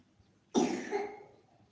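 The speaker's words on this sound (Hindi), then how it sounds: "खांसी आ रही है" A child's single sharp cough bursts out, close and fairly loud, then trails off into quiet.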